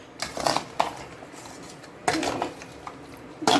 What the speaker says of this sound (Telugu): కొంచెం ఆయిల్ ఇప్పుడు కలుపుకుంటున్నాను. మొత్తం మంచిగా కలుపుకోవాలి.